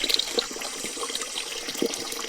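Natural mountain water runs and splashes steadily near Mt. Dinor in Santa Cruz, Davao del Sur, a soft continuous trickle with a few brighter drips and no talk.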